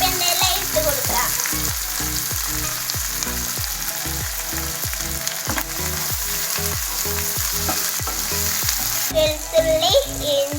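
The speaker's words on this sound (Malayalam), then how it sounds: "ഇതിലേക്ക് കരിവേപ്പില ഇട്ട് കൊടുക്കാം" Curry leaves sizzle loudly in hot oil in a kadai while kadai chicken is cooked. A steady frying hiss runs throughout, punctuated by regular scraping stirs of a spatula.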